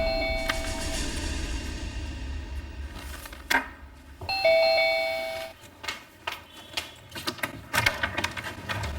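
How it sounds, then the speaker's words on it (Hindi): An apartment doorbell chimes with two clear electronic ding tones several seconds apart, set against a dramatic music bed with thumping hits and a low rumbling drone. "तभी डोरबेल बजी।"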